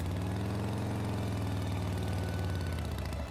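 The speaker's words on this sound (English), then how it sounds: "he hurries onto his motorcycle, zooming out of the Batcave" Motorcycle engine running steadily as a sound effect in a Batman audio drama, a continuous idling rumble with a pulsing, knocking throb that stays loud and close throughout, with no voices over it.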